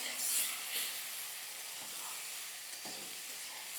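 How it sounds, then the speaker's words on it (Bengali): Eggplant fries in a pan with a soft, steady sizzle and hiss, fairly faint, broken by a few light stirring taps. "দেখো, এটা কত সুন্দর করে এবার ভাজা হচ্ছে।"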